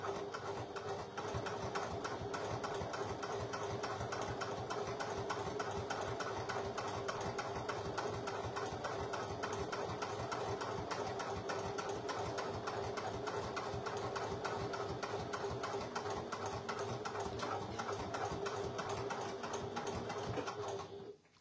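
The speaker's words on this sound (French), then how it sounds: "je fais mon petit point avant-arrière, j'essaye d'avoir une couture régulière" A sewing machine runs a long regular seam with a forward-and-back stitch on a zippered back pocket of a bag, a dense, continuous mechanical whirr close by, steady throughout before stopping at the end.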